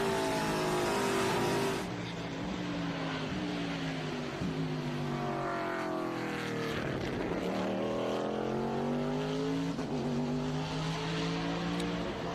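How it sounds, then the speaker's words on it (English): A 150-horsepower American muscle TA race car roars past at a road course, its engine note sweeping up and down through gear changes, loud and continuous with no talk over it. "Beautiful sound of that TA car. 150 brake horsepower of pure American muscle."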